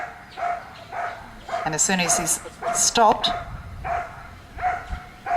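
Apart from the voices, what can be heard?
police dog barking during bark and hold exercise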